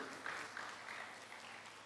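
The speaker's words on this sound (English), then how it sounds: "please give a round of applause to our speakers today" Faint applause for speakers at an international academic seminar, a soft steady wash of distant clapping lasting under two seconds.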